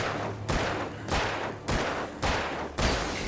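Revolver gunfire in the video game Alan Wake: four sharp, loud shots spaced roughly half a second to a second apart, each with a brief decaying tail, and no talk.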